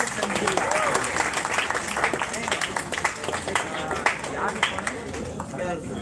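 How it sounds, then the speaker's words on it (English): Audience applause for winning teams called on stage at a school social-emotional learning event, a steady wash of clapping lasting throughout, with voices and crowd chatter mixed underneath. "Everyone, please clap for the winners."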